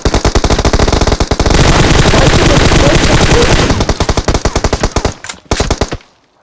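Rapid machine gun fire in a shooter video game, loud and close, steady bursts of dense rattling shots that break into a few short final bursts before stopping.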